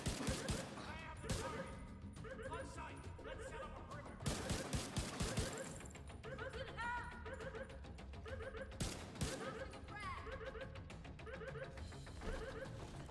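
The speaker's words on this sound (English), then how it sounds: "I didn't mean to shoot twice." Gunfire in the video game Division 2 crackles in repeated bursts and single shots, mixed with impacts and game effects under a steady bed of sound, with voices at moments.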